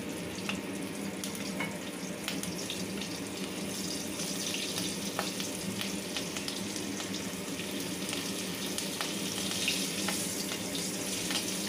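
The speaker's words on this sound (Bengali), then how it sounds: "আমি এবার সেই তেলেতে কিছু ফোড়ন দিচ্ছি। 3টে কাঁচা লঙ্কা দিয়ে দিয়েছি" Green chillies sizzle in hot mustard oil left from frying hilsa fish, a steady close frying hiss with scattered pops and crackles throughout, no talking.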